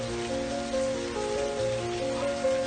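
Steady rain falls outdoors as a dense, even hiss, with a constant tonal hum running underneath and no talking.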